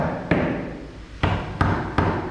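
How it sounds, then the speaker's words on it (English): A hammer tamps wooden canvas stretcher bars together at the notched corners. Four sharp, solid knocks land at irregular intervals, close and fairly loud, with no speech. "I'll come in with a hammer"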